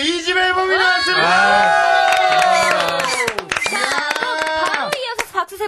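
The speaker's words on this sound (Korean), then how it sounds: "박수 세 번 시작." A studio audience on a Korean radio talk show bursts into sharp, close clapping in the second half, following loud, sustained voices that carry through the first half.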